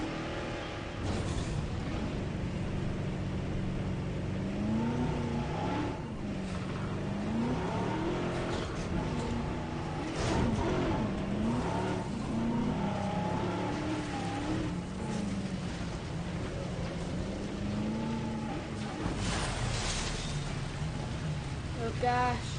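A vehicle engine racing in Jurassic World Evolution, with a continuous revving drone that rises and falls in pitch through repeated accelerations, heard steadily for the whole stretch under occasional talking.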